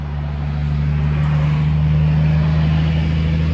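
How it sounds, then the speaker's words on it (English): A noisy truck passes on the highway beside a service station, a loud, steady engine rumble and road roar that holds for the whole stretch without fading. "here comes a noisy truck."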